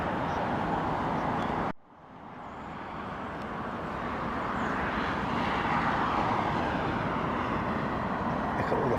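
Conway-powered Boeing 707 at London Heathrow Airport in stormy weather, a loud continuous engine roar with a brief dip early on before building again, no talk.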